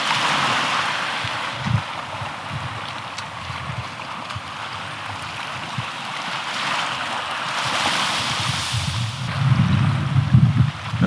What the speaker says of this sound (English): That breeze feels good.